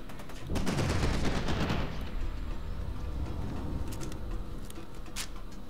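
An enemy shotgunner opens fire in F.E.A.R. 2, a loud, close volley of overlapping gunshots in the first seconds, then a rumbling tail with a few sharp cracks following, no voices.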